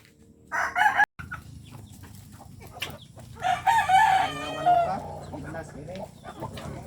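A neighbour's rooster crows loudly nearby, a quick call followed by a longer drawn-out crow, with faint background clucking.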